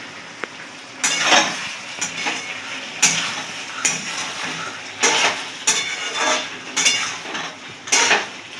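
A utensil scrapes and clanks against a cooking pot while Bengali shukto is stirred, a regular series of metallic scraping strokes about once a second, close and fairly loud, with no one speaking.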